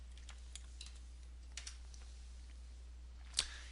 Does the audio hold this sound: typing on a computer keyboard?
yes